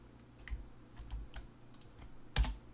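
Keys on a computer keyboard are tapped while coding in VS Code, a few soft, scattered clicks close by, ending in one louder keystroke, with no talking.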